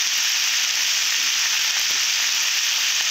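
Pumpkin pieces sizzle and fry steadily in a hot pan of oil while a home-style vegetable curry is cooked, a constant bright hiss with a few faint clicks of stirring and no voices.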